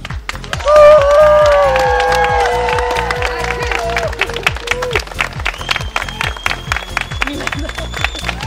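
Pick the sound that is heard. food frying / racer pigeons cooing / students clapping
students clapping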